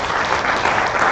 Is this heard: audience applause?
yes